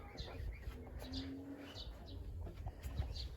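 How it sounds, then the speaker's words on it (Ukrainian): Sparrows chirp near a chicken coop, with repeated short, faint tweets scattered over a low, soft cooing and farmyard background. "Горобців мама не горюй тут."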